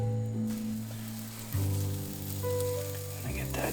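Butter sizzles in a hot pan heated for cooking pancakes, a close, steady crackling hiss over a low hum that swells briefly now and then.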